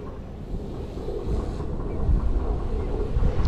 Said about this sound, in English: As long as you don't have this kind of crazy wind here